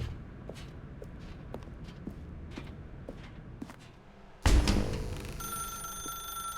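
Telephone ringing in the video game The Stanley Parable, a sudden bright ring with sustained electronic tones starting partway through, after quiet footstep-like shuffling.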